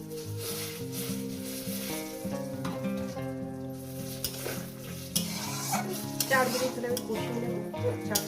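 Spice paste with tomato, thinned with water from rinsing the spice bowl, is stirred and fried in a pan for a katla fish belly curry. It gives a steady close sizzle with scraping stirs, under continuous background music.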